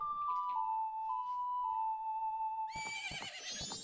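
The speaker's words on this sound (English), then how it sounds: "Oh look, a horse!" Horse whinnying in Zelda: Majora's Mask, a loud, shrill neigh bursting in after a long sustained game tone.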